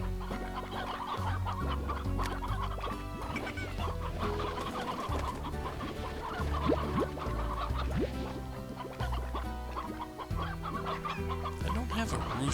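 Chickens clucking in the video game Slime Rancher, with steady overlapping clucks and squawks heard up close over busy game music and effects throughout.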